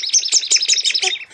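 A toy noise maker gives a rapid series of bright, high-pitched chirping squeaks, like birdsong, in quick bursts close up and alone.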